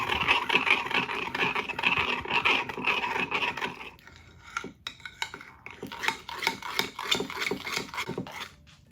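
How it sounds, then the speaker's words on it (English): A utensil stirs chocolate chips in a pot until they melt, giving a steady close scraping and clinking against the pot, briefly pausing midway before resuming with quicker rhythmic strokes. "So now we're going to stir the chocolate chips until they melt."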